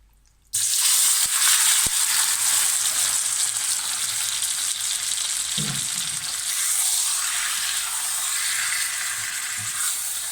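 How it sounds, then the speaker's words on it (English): Marinated lamb sizzling steadily in hot oil, a loud constant crackling hiss that starts abruptly, with a few soft stirring scrapes partway through. "we're just going to fry this off. So this is going to sizzle."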